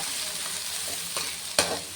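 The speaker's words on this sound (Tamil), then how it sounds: "வெங்காய மிளகாயும் சேர்த்து நல்லா வணக்கி எடுத்துடலாம்" Onion and green chillies sautéing in a pan for a semiya dish, a steady soft sizzle with a few sharp scraping stirs near the end, close and fairly quiet.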